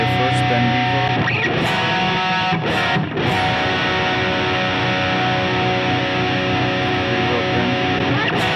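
Electric guitar played through a NUX Trident multi-effects pedal with delay placed before reverb in parallel routing, a dense sustained distorted tone with ringing repeats and wash, continuous and loud throughout with brief pick attacks.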